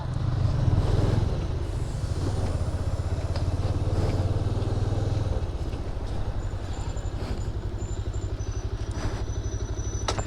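Pulsar motorcycle engine idling close by on the last day of a Munnar ride, a steady low throb with a rhythmic putter that runs the whole time, slightly louder at the start, with faint clatter and no talk.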